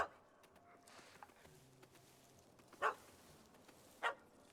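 A small puppy in The Witcher 3 gives two short, sharp barks, fairly close, over quiet game ambience.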